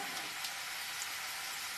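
Ragi onion pakoda frying in hot oil, a soft, steady hiss and crackle of bubbling oil, faint and even throughout with no talk.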